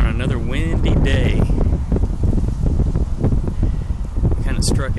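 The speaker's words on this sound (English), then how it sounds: "Out here on another windy day." Strong wind buffets the microphone in heavy, rumbling gusts near a creek in East Texas while someone talks over it.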